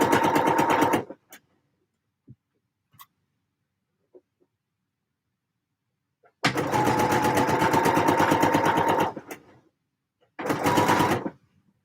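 A sewing machine stitching the neckline of a garment runs in bursts: a short run, a pause with faint handling clicks, a longer steady run of rapid needle strokes, then a final brief burst, close and loud with no talking.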